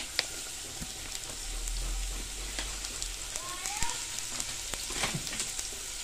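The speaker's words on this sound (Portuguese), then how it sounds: "A cebola já está aqui fritando." Oil sizzles and crackles steadily as onions fry, with faint clinks and a brief voice in the background.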